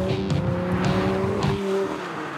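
Powerful convertible accelerating hard in fourth gear inside a tunnel, its engine note rising loudly and echoing close by for a couple of seconds before dropping off.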